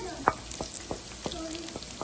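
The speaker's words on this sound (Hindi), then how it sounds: "ये मसालों को मैं थोड़ी देर भूनूंगी" Goat or chicken meat frying in butter with added spices for a handi, a steady close sizzle punctuated by several sharp spoon-against-pot scrapes and clinks.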